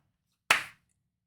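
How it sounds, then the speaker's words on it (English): One crisp, close hand clap, loud and isolated in otherwise near silence, with a short decaying tail. "That was a great clap."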